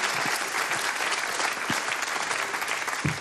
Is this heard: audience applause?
yes